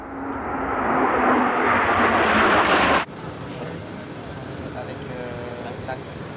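Combat jet aircraft roaring loudly overhead during a joint French and British military exercise with ground commandos, a broad sustained rumble that cuts off abruptly to quieter background noise.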